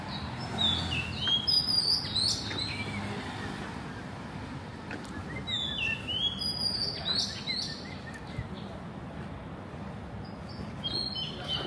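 Small birds chirp and tweet in short bursts over a steady roar of nearby road traffic outdoors in Bangkok, Thailand, the calls moderately close and intermittent.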